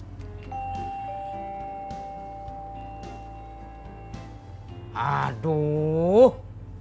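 A doorbell chimes twice near the end, a bright ding-dong rising over quiet room noise and faint music that fill the earlier part.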